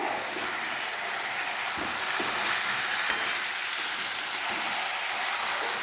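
Spices frying with salt for chicken biryani crackle in a hot pan as a steady, loud sizzle, with a few stirring knocks of a spoon scattered through it.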